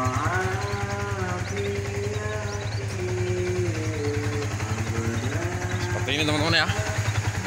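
A Yamaha Vixion motorcycle fitted with an NPP cylinder block idles close by with a steady low engine rumble, while someone talks over it throughout.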